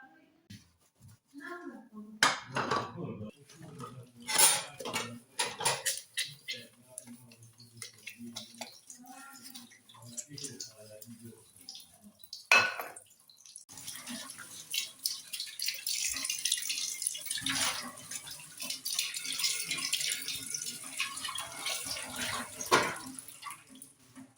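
Running tap water and clattering dishes as a large pile of dishes is washed by hand in a home kitchen, with intermittent splashes and knocks and a steadier stretch of flowing water in the second half.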